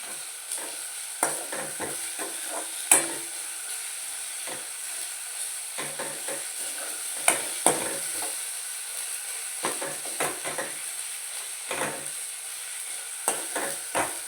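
A spoon stirs a thick tomato-onion masala gravy in a pan over medium heat, with steady sizzling and frying hiss beneath repeated scraping strokes, close up and with no voices.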